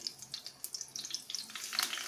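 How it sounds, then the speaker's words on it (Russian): Soft crackling sizzle of apple fritters frying in a pan, small pops and spits continuing steadily, close and fairly quiet. "Теперь наши оладушки жарим до золотистого цвета"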